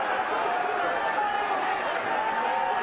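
Boxing arena crowd at Henry Akinwande vs Scott Welch growing animated, a steady broad roar of cheering and chatter that holds at an even level throughout, with a commentator's voice beneath.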